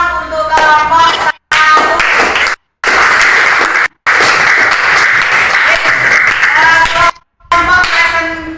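A class claps for a student presentation group, steady broadband applause filling the room in several bursts broken by short gaps, with voices mixed into the clapping.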